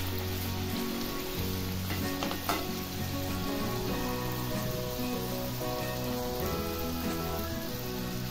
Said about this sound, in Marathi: चांगला असं गोल्डन असं कलर असं तळून घ्यायचं.